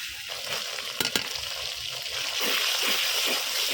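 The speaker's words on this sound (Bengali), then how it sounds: "এখন মশলাটা সুন্দর করে আমি কষাই তারপরে মাংসটা দিই" Ground spices with ginger and garlic frying in a pan for beef bhuna khichuri give a steady close sizzle that swells louder midway, with a couple of sharp clinks from stirring.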